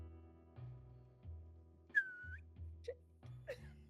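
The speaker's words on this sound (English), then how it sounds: "I will whistle for the rest of the party to hear now." A person gives a short, faint whistle over a low, repeating musical background, followed by a couple of brief chirp-like sounds.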